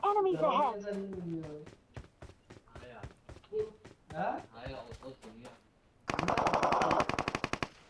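Rapid automatic gunfire from PUBG Mobile on the Miramar desert map bursts in loud and dense near the end, after stretches of player chatter over the game.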